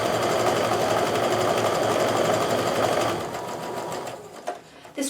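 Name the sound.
sewing machine sewing quarter-inch seam on quilt block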